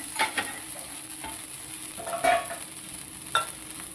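A dhirda, a savoury pancake, sizzles in oil in a pan for a Kinkrant festival meal, a steady close hiss punctuated by several sharp scraping spatula strokes as it is turned and pressed.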